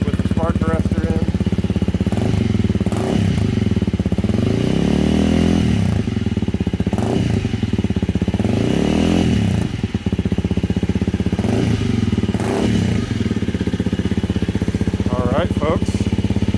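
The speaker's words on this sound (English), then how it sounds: "New Moto X exhaust with the spark arrestor in." A 2021 Honda CRF300L Rally ABS motorcycle idles and revs through a new Moto X exhaust with the spark arrestor fitted. It makes a loud, close, steady thumping drone with several throttle blips rising and falling.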